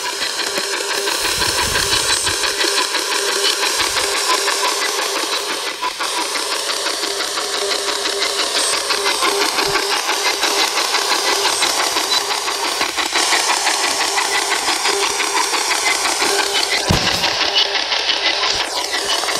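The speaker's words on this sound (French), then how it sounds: "Voiture." A car goes by outside during a ghost-hunting investigation, its engine a steady, fairly loud rumble with a hissing wash that lasts throughout, and no voices.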